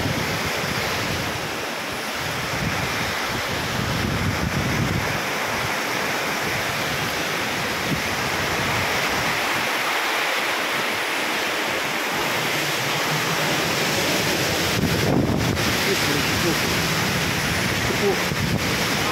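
Strong typhoon wind roars continuously in Quezon, a loud, broadband rushing like surf that swells and gusts throughout, with occasional voices faintly underneath.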